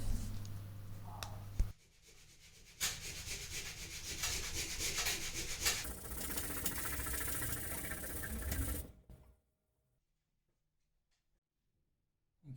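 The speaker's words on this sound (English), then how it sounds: "it does just need a little bit of a sand" Sandpaper rubbing over a freshly filled plaster ceiling crack, a steady scratchy scraping lasting several seconds after a brief pause, then stopping into silence.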